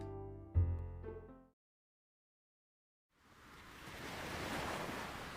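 Ocean waves in the World End Syndrome video game: a soft, steady wash of surf swells in after a moment of silence and holds at a low, even level, following a brief earlier tonal sound.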